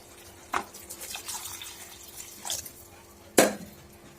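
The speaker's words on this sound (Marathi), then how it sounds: "त्यात आता आपण थोडंसं पाणी घालून घेऊया।" Water is splashed into a south Indian sambar pot with tamarind and jaggery, coming as three short, soft gushes spaced a second or two apart over a quiet kitchen background.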